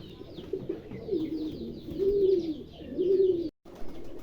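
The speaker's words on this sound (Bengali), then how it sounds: "খুব চমৎকার এক পেয়ার ব্ল্যাকলেস বন্ডি নেট কবুতর আছে এখানে" A pair of fancy pigeons coo repeatedly in low, throaty rolling calls, close by, with faint chirps of other birds in the background and a brief dropout near the end.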